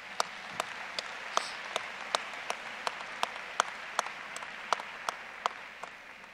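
Sparse, scattered clapping from a smallish group at a college commencement ceremony, distinct individual claps over a quiet background, thinning out toward the end.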